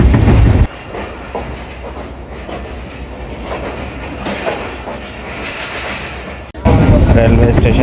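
Train running along rails on the way to the Raiwind Ijtema, a steady low rumble with faint clickety-clack inside the carriage, louder at the start and end, with people talking under it.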